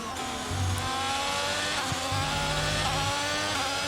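A Formula 1 car engine in the video game F1 22 drones steadily at high revs, with pitch shifts as gears change, a constant synthetic-sounding whine throughout.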